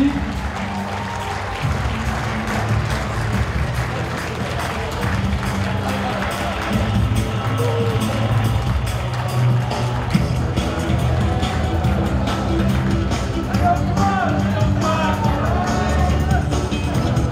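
A crowd applauds and cheers at a live event, with dense, steady clapping and cheering held at full loudness for the whole stretch, plus crowd chatter mixed in.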